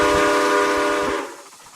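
Steam-style train whistle from a locomotive in the model railroad game RO-Scale Sandbox, a loud sustained chorded tone lasting just over a second, then cutting off and leaving a faint rumble.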